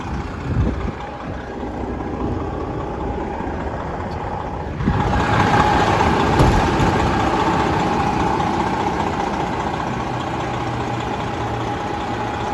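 A 2020 Western Star glider daycab truck with a 12.7 engine showing light to moderate blow-by idles steadily up close; the rumble grows noticeably louder partway through and then holds even.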